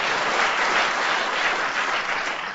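A studio audience at a radio panel game applauds steadily, a dense, even wash of many hands clapping at once, sustained and fairly loud with no talk over it.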